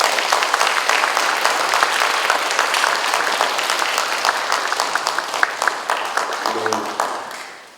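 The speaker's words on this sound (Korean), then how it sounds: "아낌없는 경의의 박수 한번" A congregation at an end-of-semester chapel service at a theological university bursts into loud, dense applause that holds steady and then gradually fades away.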